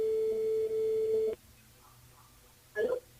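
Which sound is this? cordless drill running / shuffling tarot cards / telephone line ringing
telephone line ringing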